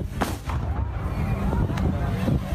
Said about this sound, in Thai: มีเหตุการณ์พลุระเบิดเกิดขึ้นที่จังหวัดนครพนม